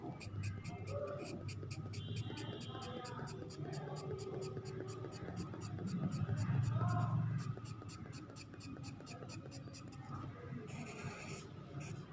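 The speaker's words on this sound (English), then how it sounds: "You have to blend to all, and you can use soft pencil for the shading." Soft charcoal pencil shades across paper in a bridal portrait sketch, making a close, quiet, continuous scratchy rustle with steady strokes and a brief heavier passage midway.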